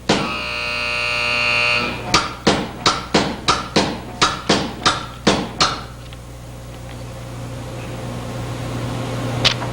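Bingham offset press being inched around with roller strips in place, a mechanical hum followed by a run of about ten evenly spaced sharp clicks or clacks, then a quieter hum.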